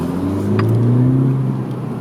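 A 2018 Honda Civic Si with a KTuner installed runs under load while driving, its engine a loud, steady drone with rising tones as it pulls, heard close from inside the car.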